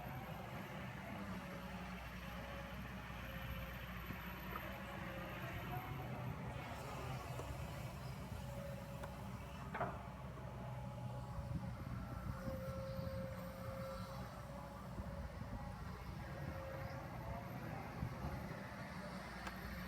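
A used machine's engine with over 4,400 hours runs at a steady, low idle, a faint and even rumble with no revving.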